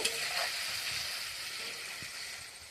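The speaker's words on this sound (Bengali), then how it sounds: "চিংড়িগুলো একটু ভাজা হয়ে যাক, দিয়ে ওটা নামিয়ে নেব" Prawns fry in hot oil, releasing a little water, giving a steady, fairly quiet sizzling hiss that fades slightly over its short span, with no voices.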